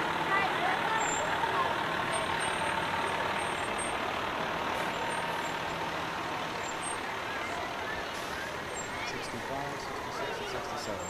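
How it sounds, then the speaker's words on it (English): A 2008 KME fire ladder truck with a 500 horsepower Cummins engine and 75-foot ladder rolls past in a Fourth of July parade, its steady engine rumble mixed with crowd noise and background chatter throughout. "211, a 2008 KME ladder truck with a 500 horsepower Cummins engine."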